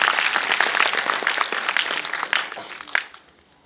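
An audience at a spiritual discourse claps for the sound crew, a brisk burst of dense applause that tapers off within a few seconds.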